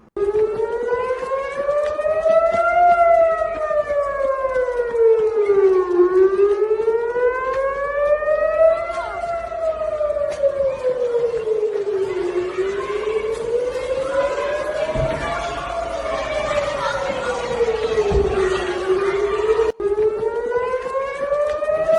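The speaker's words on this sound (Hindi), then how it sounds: "ये इजराइल के अंदर तेल अवीव में सायरन की आवाज आप सुन सकते हैं" Civil defense air raid siren in Tel Aviv, Israel, wailing loud and steady, its pitch sweeping slowly up and down in long repeated cycles, with faint background noise beneath.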